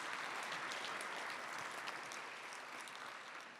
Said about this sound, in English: So round of applause really quickly for Institute for Humanities